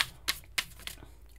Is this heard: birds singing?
no